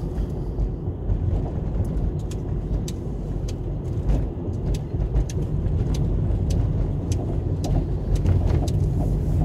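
Steady road rumble of a car being driven on a short trip home, a continuous low engine and tyre drone heard from inside the cabin with faint ticking clicks, no talk.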